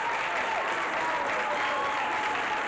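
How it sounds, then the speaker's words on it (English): A studio audience applauds in a live CBS television studio in New York, 1990, right after a woman completes a firewalk; dense, steady clapping fills the whole stretch with no break. "Even the skeptics are applauding."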